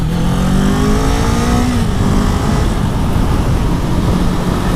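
A Kawasaki Z400 motorcycle engine revs up loudly and close during a test ride, rising in pitch as it accelerates, then settling under steady wind and road roar.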